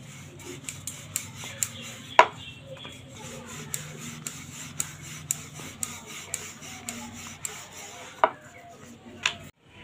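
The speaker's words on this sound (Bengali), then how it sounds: "লেচিটা বেলে নেব।" A rolling pin works a ball of flour dough for lachha nimki on a board, making soft rhythmic thumps and scraping strokes about twice a second, with a couple of sharper knocks, close and without speech.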